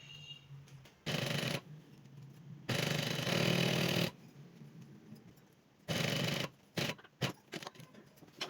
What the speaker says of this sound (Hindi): और अब यहाँ पर सिलाई लगाऊँगी।